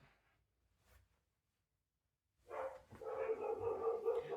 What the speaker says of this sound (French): Désolée, les chiens aboient, mais de façon continue.